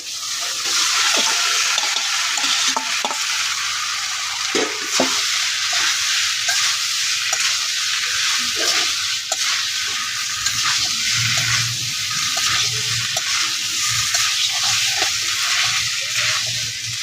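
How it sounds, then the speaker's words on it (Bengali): Potatoes frying and being stirred with spices in a pan for a Bengali potato curry, a steady hiss of sizzling oil running throughout with scattered spoon scrapes and clinks, close and continuous with no talking. "আলুকে আমি ভালো দিয়ে বাজিয়ে নিই মশলাটার সাথে"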